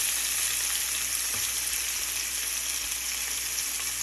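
Yogurt-marinated chicken, boiled beforehand, pan frying in a little oil, giving a steady, close, even sizzle that runs throughout with no talk.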